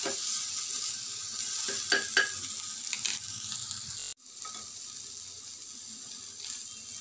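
Chopped tomato sautés in a pan for a small-onion chutney, a continuous close sizzle broken by several sharp stirring scrapes and a brief dip partway through.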